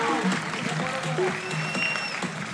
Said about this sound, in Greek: Για να ακούσω το χειροκρότημα.